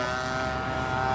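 A 60-size Reactor RC biplane drones overhead, its steady engine and propeller whine running continuously and fairly loud for the whole moment with no talk.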